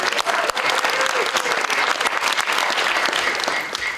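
Audience applause at a memorial lecture: dense, steady clapping from a crowd, loud and close, sustained throughout.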